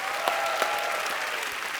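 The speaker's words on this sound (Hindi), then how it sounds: "जोरदार तालियां।" Studio audience at a televised Hindi comedy talk show applauds a guest's entrance, a steady dense wash of clapping with a couple of sharper claps standing out, moderately loud and continuous.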